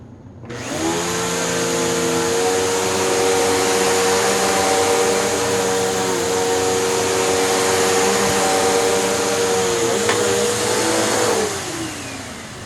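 A Bissell Turbo upright vacuum cleaner starts up and runs on carpet sprinkled with baking soda, a loud steady whirring drone with a high motor whine that holds for about ten seconds before spinning down.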